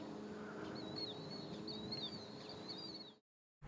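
Birds call at a quiet sailboat anchorage, faint repeated chirping notes in a series over low ambient background, ending in a sudden cut to silence.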